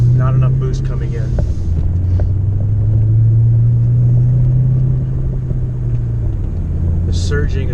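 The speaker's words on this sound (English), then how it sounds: "The surging is gone. At wide open throttle, third gear, getting a little bit of RPM." A Ford Mustang engine at wide open throttle in third gear with too little boost, a loud, steady low rumble whose pitch rises gradually, while someone talks over it.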